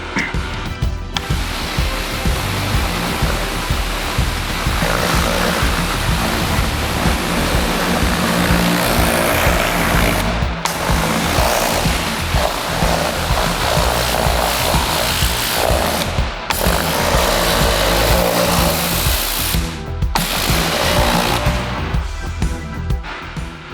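A pressure washer fitted with a turbo nozzle blasts a watercraft, a loud, continuous rushing spray with engine drone beneath it, broken by a few brief pauses as the trigger is released.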